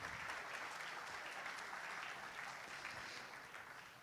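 Sustained audience applause at an evening innovation awards ceremony honouring a factory, dense continuous clapping from a large crowd that stays even before fading slightly toward the end, heard at a distance and fairly quiet.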